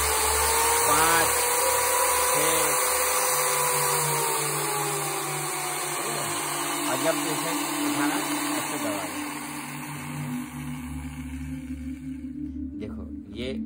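A Black and Decker drill fitted with a mixing rod runs as a putty and paint mixer, whining steadily and continuously up close, with someone talking over the motor before it cuts out near the end.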